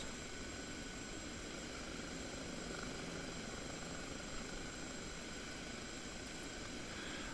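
Steady droning hum of a Kiowa helicopter in flight in the DCS combat simulator, a constant faint engine and rotor tone with high whine, unchanging throughout without talk.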